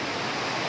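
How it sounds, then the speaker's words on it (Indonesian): Steady, dense rush of falling water from the uppermost tier of a tall waterfall at Curug Air Bagus, Bengkulu Utara, a broad continuous roar heard close and alone with no voices. "Ini air terjun paling atas."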